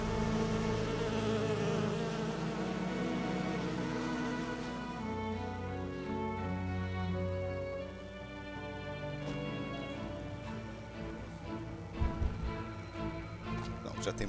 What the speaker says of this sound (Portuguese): Bem capaz de você se mexer pra colher a abelha e as abelhas te atacar.